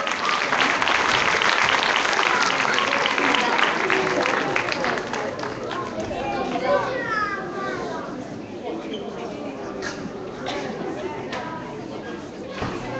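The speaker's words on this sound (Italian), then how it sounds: "applauso a Melissa La Guardia" An audience claps loudly for performers at a children's stage show of Snow White, applause fading to lighter clapping with voices and cheers mixed in.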